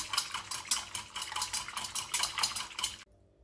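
A utensil stirs crepe batter ingredients in a bowl with rapid, rhythmic clinking and scraping strokes for about three seconds, close and clear, then stops abruptly into silence.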